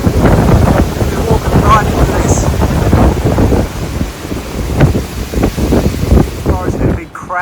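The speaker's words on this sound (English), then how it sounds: "Like we get this wind in our backs." Strong wind gusts roar steadily against the microphone on a hiking trail in New Zealand's South Island, a loud, continuous rushing buffet that persists throughout with brief lulls near the end.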